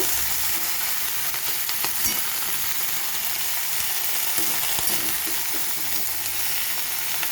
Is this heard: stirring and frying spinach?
yes